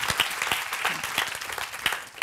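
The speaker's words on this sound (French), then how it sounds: "on lui fera part des applaudissements" An audience at a university symposium applauds, a modest burst of many hands clapping in a room, fairly faint and steady for a couple of seconds.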